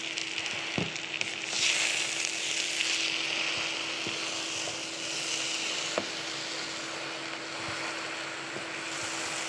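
Jute leaves being stir-fried in oil with fried onion and salt make a steady, moderate sizzle, broken by a few sharp clacks of a spatula against the pan.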